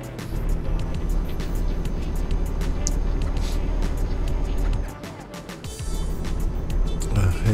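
A 750-horsepower Volvo truck pulling a small trailer in Euro Truck Simulator 2 drives along in the rain, its steady low engine drone running throughout with talk over it.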